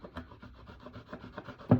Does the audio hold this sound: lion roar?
no